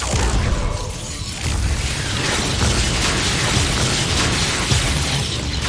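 Loud, dense booming blast from a Bombarda spell in Hogwarts Legacy on PS5, a continuous roaring wash of explosive noise with small pops and crackles throughout.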